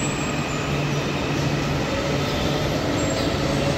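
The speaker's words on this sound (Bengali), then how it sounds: "এই সামনে যে ট্রেনটা দেখছেন ওটা করেই আমরা এলাম" A Kolkata Metro blue line train pulls away from the platform, giving a steady rumble and hum of rolling wheels and motors that holds even throughout, with no voices over it.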